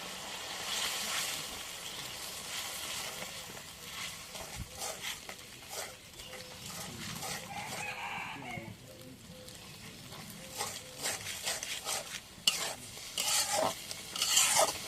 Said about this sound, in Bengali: সব কিছু দেওয়া হয়েছে, এখন নাড়া দিই।